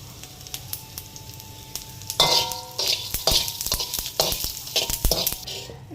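Red chilies, cumin, peppercorns and coriander seeds roast in hot sesame oil with a quiet sizzle. Sharper crackling bursts and stirring scrapes come in about two seconds in, steady and close, with no talking.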